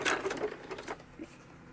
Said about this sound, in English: And I back stitch.